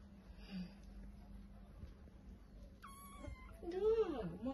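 A kitten or cat at an animal shelter gives a couple of soft, close meows near the end, over quiet room noise and a voice.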